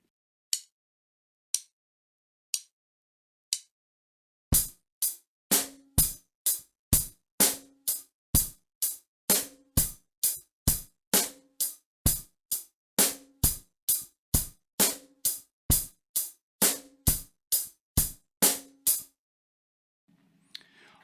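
A few isolated drum hits lead into a steady beginner rock groove on a drum kit, snare and bass drums repeating in an even, driving pattern close by until it stops abruptly.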